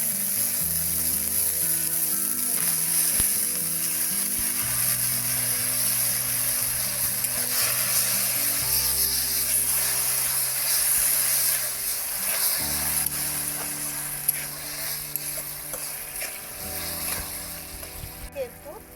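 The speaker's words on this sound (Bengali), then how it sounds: "এর মধ্যে আমি অল্প একটু জল দিয়ে দেবো।" Water poured into a hot pan of fried gram flour for motichoor laddu sets off a continuous loud hiss and sizzle that fades slightly near the end, with music playing underneath.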